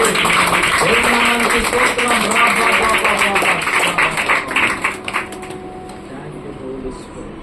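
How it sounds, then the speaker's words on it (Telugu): A church congregation claps in a fast, steady burst, loud and near, for about five seconds before it fades out under a preacher's voice. "చప్పట్లు కొట్టాలండి"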